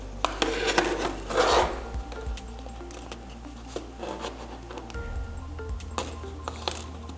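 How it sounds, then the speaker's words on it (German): A plastic pick scrapes and slides along the edge of an iPhone SE display during a repair, giving soft rasping and rubbing strokes with a louder scrape near the start, heard close up with no talk. "Wir nehmen dann ein Plektrum und fahren am Rand entlang."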